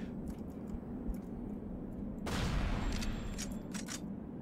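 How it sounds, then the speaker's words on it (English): Gunfire in the PC game Shadowgrounds: Survivor crackles in rapid bursts of quiet shots, swelling into a denser, louder volley midway that keeps rattling to the end, with no talking. "shooting through the barrel now"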